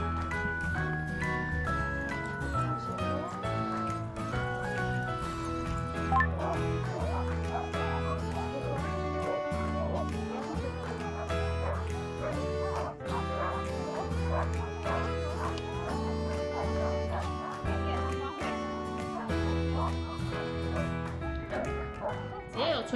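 Dogs bark, yip and whimper in Yellowknife, Canada, with repeated calls continuing throughout, partly masked by steady background music.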